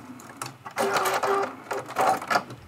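A home sewing machine stitches back and forth while sewing a small scrappy crazy-quilt pin cushion, its motor running in several close, steady bursts with short pauses between them.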